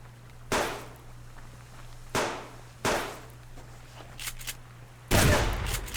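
Gunfire in the survival video game Subsistence: several separate heavy bursts of shots ring out at intervals over a low steady hum, the last burst longer and louder, with no talking.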